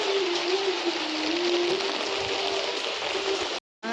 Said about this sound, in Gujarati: ધંધોળો ચાલુ થઈ ગયો હે વરસાદનો